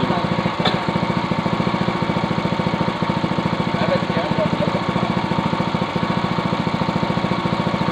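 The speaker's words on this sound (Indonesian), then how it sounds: "Ya halus temenan, mesinnya halus." A Yamamaxpro 3-inch water pump engine runs steadily at idle, a loud, close, rapid even chugging that holds throughout without pause.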